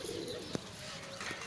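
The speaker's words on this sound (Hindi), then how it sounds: "कबूतर हमारे उड़ रहे हैं" Domestic pigeons coo softly around a clean loft, a low murmuring call under steady background noise, with one brief sharper sound partway through; no wing flapping is distinct.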